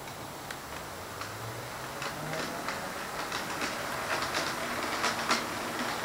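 A model train rolls steadily along the track, its wheels ticking out a rhythmic clickety-clack that grows slightly louder as it passes.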